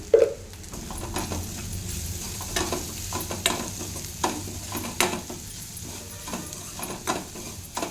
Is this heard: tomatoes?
yes